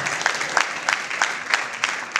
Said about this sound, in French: Est-ce qu'on peut applaudir bien fort pour Linda